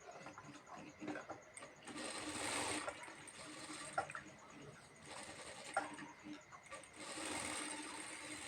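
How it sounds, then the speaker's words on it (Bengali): A sewing machine joins two pieces of cloth for a homemade fabric face mask, running in bursts that stop and restart, fairly close and moderately loud, with light background noise and occasional small clicks. "তো আগে আমি প্রথমে জয়েন করব একসাথে 2টি কাপড়। এখানে আমরা সেলাই আগে দিয়ে দিব।"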